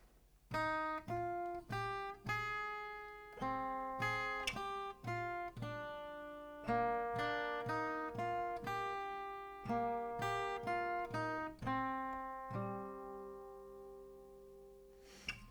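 An acoustic guitar plays a fingerpicked passage with open strings and fretted notes, plucked one by one in an even pattern, ringing and close, with no voices.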